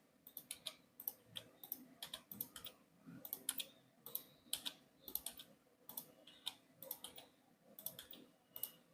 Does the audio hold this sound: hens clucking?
no